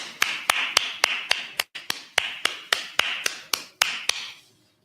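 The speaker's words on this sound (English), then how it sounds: "All right, clap it up" Group of people clapping in unison, a steady series of about fifteen sharp claps at an even rhythm, close and fairly loud, with a brief gap midway and silence at the end.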